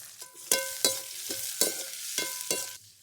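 Sliced big onions fry in oil for a Chettinad chicken curry, with about seven sharp metallic scrapes and clinks from stirring, spaced roughly every half second, over a soft background sizzle.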